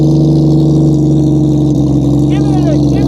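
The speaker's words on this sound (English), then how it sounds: "I'm going to go down by the exhaust so we can hear the fine note." A 1972 Plymouth Valiant engine idles and revs after a cold start, its exhaust note loud and close with a steady rumbling throb, while a person speaks over it.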